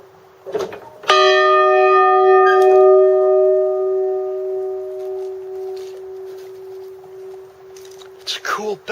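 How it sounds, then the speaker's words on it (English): A single church bell strikes once, loud and near, then rings out in a long clear tone that slowly fades over several seconds, with a few faint handling noises before and after. "It's a cool bell."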